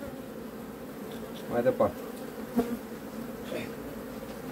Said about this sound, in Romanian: Uite așa salvăm un stup care e plin de albină.